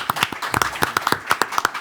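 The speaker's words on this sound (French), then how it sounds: "Applaudissements pour Maître Butté." A small audience at a civic event in Orléans gives brief, scattered clapping for a notary, a few distinct hand claps in an uneven rhythm, close and fairly quiet.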